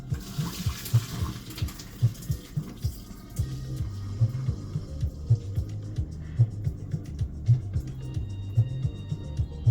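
Cooked instant noodles, Omsom Saucy Coconut Lemongrass Curry, drained of their water: a low, throbbing gurgle of water pouring out in repeated pulses, close and steady throughout, with no talking.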